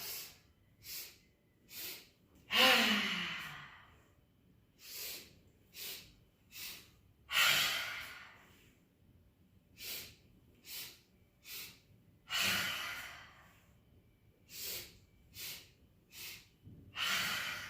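During a dynamic yoga session, a person breathes in through the nose with short sniffing inhales and out through the mouth with longer, louder hissing exhales, repeating in a steady rhythm close to the microphone.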